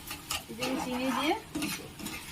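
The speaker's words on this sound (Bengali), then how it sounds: "বেশ অনেকক্ষণ নেড়ে নেব।" Carrot halwa with sugar stirred in a pan, the spoon scraping and sloshing through the thick mixture in close, steady strokes with a soft sizzle beneath.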